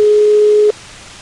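A phone line gives a busy tone after a dropped call. One loud, steady electronic beep lasts under a second, then cuts off and leaves a faint line hiss.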